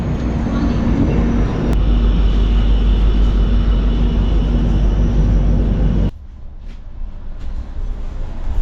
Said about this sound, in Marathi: गाडी आपली दिव्यावरून सुटली